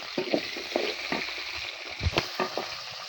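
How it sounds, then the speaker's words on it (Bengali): Steady oil sizzling in a pan as potatoes fry, close up, with occasional scraping and stirring knocks from a utensil throughout. "আমি এবার আলুগুলো দিয়ে দিচ্ছি আলুগুলো একটু ভেজে নেব"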